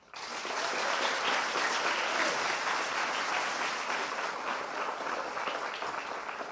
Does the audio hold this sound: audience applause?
yes